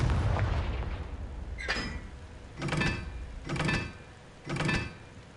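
Confringo explosion spell in Hogwarts Legacy: a heavy blast rumbles at the start and fades, then a run of four sharp whooshing bursts follows at roughly even intervals, fairly close and moderately loud.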